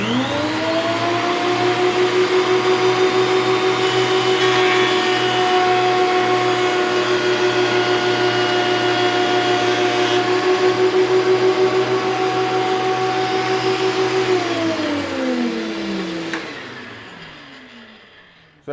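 WEN PL1326 thickness planer running a stained wood board through, a loud steady motor whine with grinding cutter noise held for about fifteen seconds before spinning down and falling silent.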